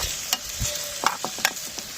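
Potatoes coated with turmeric, salt, chili powder and cumin powder are stirred in a pan at an outdoor picnic cookout, giving a few short scraping strokes over a faint background sizzle.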